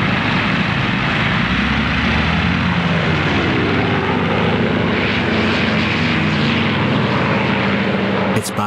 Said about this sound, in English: Wave after wave of Corsair and Sky Raider fighters attack the north.